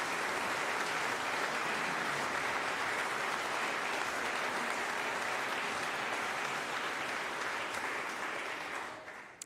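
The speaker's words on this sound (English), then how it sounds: "you will join me in giving her a round of applause" Full church congregation at a Sunday worship service giving a round of applause, dense sustained clapping from many people that fades out at the end.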